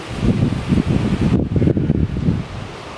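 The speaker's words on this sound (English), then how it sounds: "so windy." Strong wind buffets the microphone in loud, gusty rumbles that surge and fade repeatedly, with no voices.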